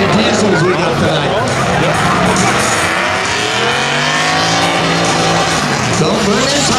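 Diesel pickup trucks rev hard and spin their tires at a spectator drag race, a loud continuous roar with rising engine pitch and squealing tires, a crowd and announcer talking underneath throughout.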